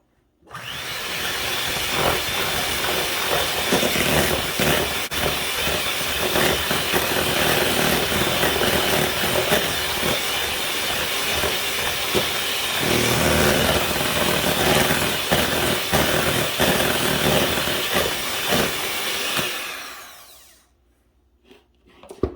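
An electric mixer beats butter and white sugar together for cookie dough, a steady loud whirring drone lasting about twenty seconds before it stops, up close with no talking.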